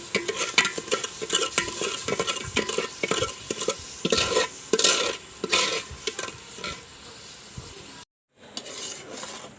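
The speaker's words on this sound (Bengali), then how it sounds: "এখন আমি এটাকে সুন্দর করে নেড়ে চেড়ে একটা শিরা বানাই নেব" A spoon stirring sugar and water in a cooking pot as it turns into syrup, with steady scraping and clinking strokes close by and a soft sizzle underneath, stopping briefly near the end.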